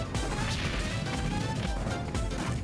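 Super Smash Bros hit sounds from an up air and jab in a Captain Falcon versus Ganondorf singles match burst out as rapid crashing impacts over a loud, continuous game and crowd din.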